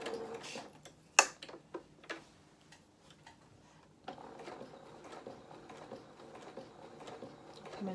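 A domestic sewing machine stitches a doll pattern along a drawn line, giving quiet mechanical ticking and whirring in short bursts, then a steadier run of stitching in a quiet room.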